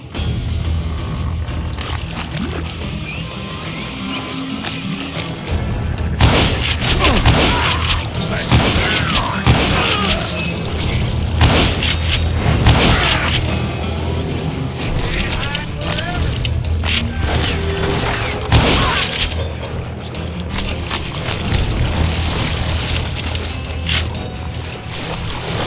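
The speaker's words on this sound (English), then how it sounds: "a fusillade of bullets come raining down from on high" Rapid gunfire crackles in Call of Juarez: Gunslinger, bursts of shots raining down in a steamboat setting, loud and dense over steady low engine rumble, with narration running underneath.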